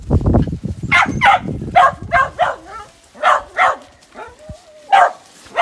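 Dogs barking and yipping in a scuffle, a rapid cluster of sharp barks followed by spaced, higher yelps and a brief whine, close by.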